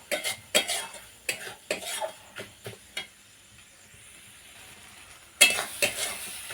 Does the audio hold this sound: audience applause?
no